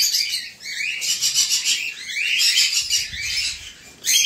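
Pet cockatiels and lovebirds chirp in cages during morning feeding, with bursts of shrill, rapid chirps and squawks coming in overlapping waves, close and fairly loud.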